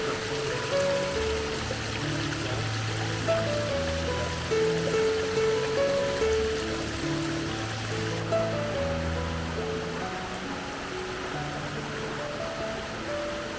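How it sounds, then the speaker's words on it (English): Water from a South Carolina waterfall flows down in a steady, broadband rush, a continuous hiss and splash heard at moderate distance without talk. "Just all the water flowing down there."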